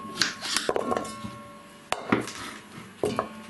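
A cooking pot is handled in a home kitchen while pumpkin is prepared, with several sharp metallic clanks and knocks at irregular intervals, close and clear with no talk.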